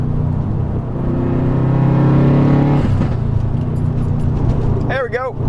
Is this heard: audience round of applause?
no